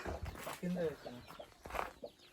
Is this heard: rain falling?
no